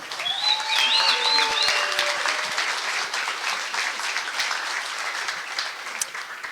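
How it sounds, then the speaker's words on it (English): Rally crowd in Allen, Texas applauding a Republican candidate, a steady dense wash of clapping and cheering with a few whistles at the start, fairly loud and sustained throughout, gradually easing slightly toward the end. "give her a round of applause, Representative Candy Noble."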